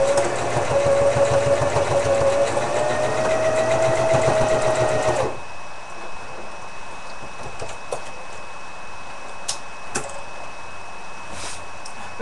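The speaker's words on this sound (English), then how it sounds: "I'm going to sew that little section." A sewing machine stitching through fur runs loud and steady with a fast mechanical whir for about five seconds, then stops, leaving faint handling clicks and quiet room noise.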